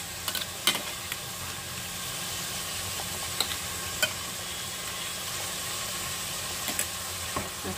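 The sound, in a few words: ginger garlic paste frying in pan for mutton handi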